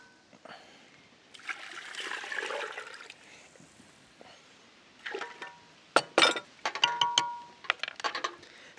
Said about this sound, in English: and add water at room temperature